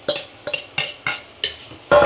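A spoon stirs mushroom biryani masala in a pot, six brisk scraping strokes at a steady rhythm, close and fairly loud with short pauses between them.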